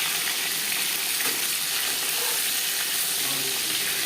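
Tangra fish frying lightly in hot oil in a pan, a continuous dense crackling sizzle heard up close, steady throughout, with no talk over it.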